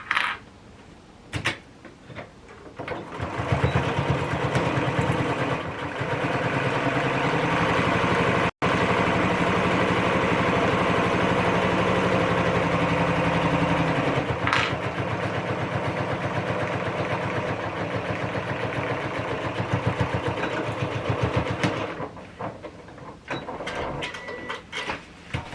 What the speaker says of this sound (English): Now when we sew, we're just going to sew right underneath that tie.